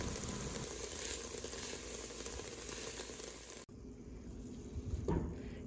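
Onions sautéing in a pan for a dairy-free green chile chowder give a steady close sizzle and frying crackle. The sound drops sharply near the end, then a brief stirring scrape and a burst of sizzle follow.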